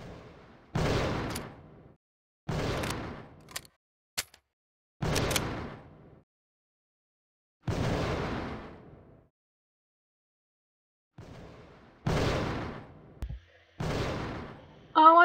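Gunshots in the game Fahrenheit ring out as separate loud, sharp blasts spaced irregularly with silent gaps between, each decaying quickly, with a few brief clicks in between.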